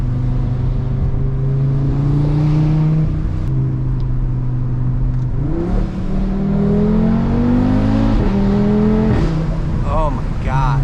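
An Audi RS3 engine revs hard and loud up close, its pitch climbing and dropping across several throttle blips with a sustained growl throughout.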